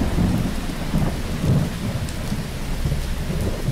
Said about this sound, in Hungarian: Az eső csak esik és esik, az évtized legcsapadékosabb májusát hozva.